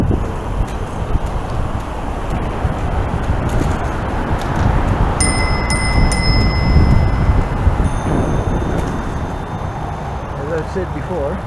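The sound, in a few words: bell ringing on recumbent trike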